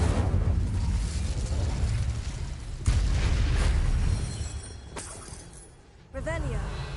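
An Incendio fire spell cast in Hogwarts Legacy bursts with a loud whooshing boom, then a sustained roaring rush that fades before a second sharp impact near the end, with a voice calling out.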